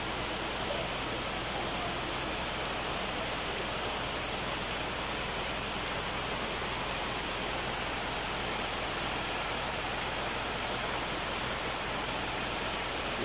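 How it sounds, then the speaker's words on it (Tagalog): Takot Falls in Didipio pours in a constant broadband rush of falling water, steady and enveloping from start to finish, with no voices over it. "Nandito ko sa harap ng Takot Falls."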